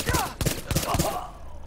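Rifle shots in Tom Clancy's The Division, a few sharp loud reports in quick succession, each with a thumping body and short decaying tail.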